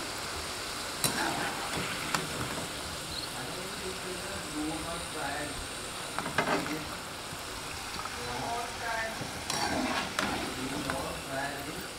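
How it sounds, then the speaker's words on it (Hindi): French fries frying in hot oil, a steady bubbling sizzle running throughout at moderate, fairly quiet level, with a few sharp clinks and scrapes of a utensil against the pan. "अभी थोड़ा सा और फ्राई करेंगे फिर इसको निकालेंगे"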